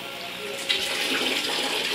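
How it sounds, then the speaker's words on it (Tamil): A water tap is opened to run water through an instant electric water heater, and a steady rush of running water starts partway through, close and moderately loud. "ஃபஸ்ட்டு தண்ணியை ஓப்பன் பண்ணணும்."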